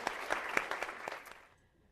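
Short burst of audience applause at a motivational talk, distinct claps close together for about a second and a half before fading out quickly.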